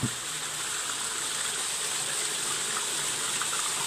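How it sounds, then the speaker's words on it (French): Steady broadband rush of water flowing below an abandoned mill, a continuous even gushing that holds constant throughout with no pauses, close and fairly loud. "il y a un bruit d'eau. Vous allez l'entendre"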